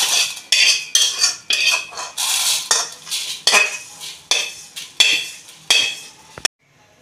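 Dry-roasted lentils are scraped and poured out of a pan in a rapid series of sharp metallic scrapes and rattles, close and loud, ending with a single clink; no one speaks.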